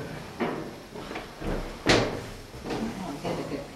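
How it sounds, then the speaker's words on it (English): Metal doors aboard the submarine USS Pampanito, in its torpedo room, are swung and closed, giving several clanks and bumps of varying loudness, one sharper slam near the middle. "Okay, so let's put these doors back."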